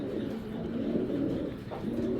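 Silver afsan racing pigeons coo in a low, steady murmur that runs through the whole stretch, close by and fairly loud, with no talking.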